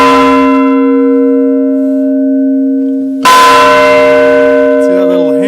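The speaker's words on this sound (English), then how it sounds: "Yep, and I think the bell's about to ring." A church bell in a restored bell tower rings the Angelus, struck by a small hammer: two loud, close strikes, each leaving a long humming resonance that fades slowly.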